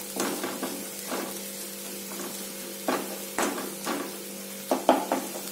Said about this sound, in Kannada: ಈಗ ಮಸಾಲೆ ಜೊತೆ ಚೆನ್ನಾಗಿ ಫ್ರೈ ಆಗಿದೆ ನಮ್ಮ ಈರುಳ್ಳಿ ಎಲ್ಲ